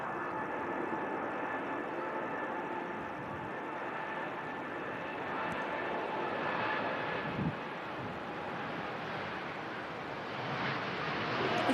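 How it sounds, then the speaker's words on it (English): A Gulf Air Boeing 787 Dreamliner departs Manchester Airport in strong gusty wind, its engines a broad, distant roar that swells slowly over the whole stretch, mixed with wind rush and faint background sound. "Here goes the Bahrain-bound Gulf Air Dreamliner."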